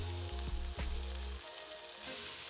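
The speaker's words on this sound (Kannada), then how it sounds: "ಇವಾಗ ಇದನ್ನೆಲ್ಲ ಚೆನ್ನಾಗಿ ಫ್ರೈ ಮಾಡ್ಕೊಳ್ತಾ ಇದ್ದೀನಿ." Onions and mixed exotic vegetables frying in a pan for macaroni pasta give a close, steady sizzle, with a few clinks and stirring scrapes early on and then a continuous hiss with no talking.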